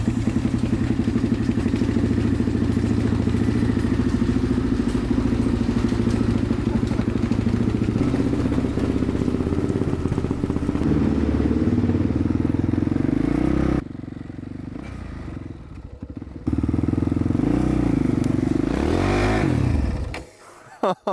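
Engine of a neglected Yamaha Raptor ATV, just restored, fires up and runs loud and steady with clattering, a few revs and a brief dip before cutting out near the end.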